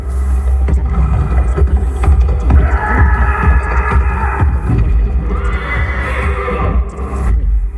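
Horses whinny and neigh over a loud, steady low rumble, with some thudding movement underneath; the calls rise in the middle and again near the end.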